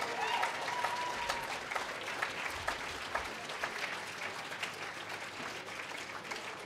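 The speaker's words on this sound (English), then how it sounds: "Give yourself a round of applause." Sustained applause from a crowd in a room at a social care awards event, steady clapping that fades slightly toward the end.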